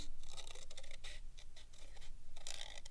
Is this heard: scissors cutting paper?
yes